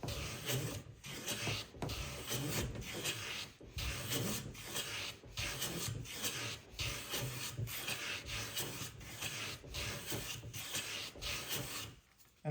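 A hand plane is pushed along the edge of a wooden joint in rhythmic rasping strokes, a dozen or so evenly spaced passes with brief gaps between them. It is close and fairly soft and has no talk over it.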